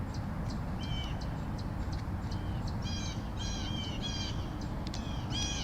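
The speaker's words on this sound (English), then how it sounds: "You hear the birds" Several birds call repeatedly over a steady background hiss, bright harsh chirps and caws in clusters, some near and some farther off.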